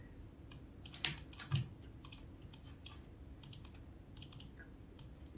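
Faint computer keyboard typing with a Ctrl+T shortcut while working in Adobe Illustrator: scattered light clicks and taps in an uneven rhythm over a quiet room hiss.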